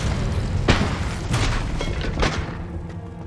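In Hogwarts Legacy, the fire spell Incendio is cast, and several deep booming bursts with crackling rumble follow one another over a continuous game soundscape.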